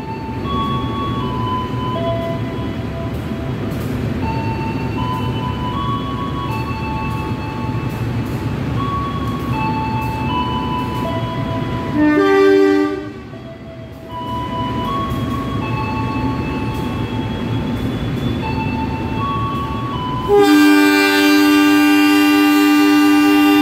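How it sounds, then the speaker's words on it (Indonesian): A parcel train rolls past on track 9 at Cirebon Prujakan station at night with a long, steady rumble and squealing wheel tones, ending in a loud horn blast. "Di jalur 9 melintas kereta Parsel."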